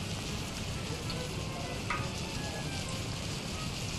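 Bihari kabab pieces fry in hot oil, giving a continuous, dense sizzling hiss that stays loud and even throughout, with no talking.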